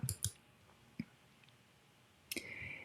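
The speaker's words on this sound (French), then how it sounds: "on clique sur le cours de notre choix" Mouse clicks while selecting a course, a few sharp close taps at the start and another shortly after, then a brief louder burst of clicking and a thin tone near the end, quiet room, no talk.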